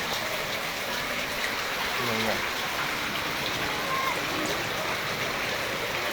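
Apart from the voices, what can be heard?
floodwater flowing after heavy rain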